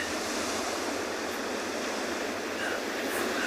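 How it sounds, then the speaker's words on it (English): Ocean waves break against shoreline rocks near a penguin beach, a steady, dense roar of surf with wind noise, continuous and fairly loud, without distinct individual crashes and no voices. "There are some waves crashing into the rocks behind the cormorants"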